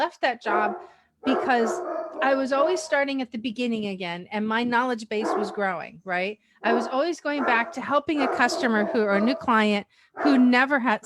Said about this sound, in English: I got a barking dog in the background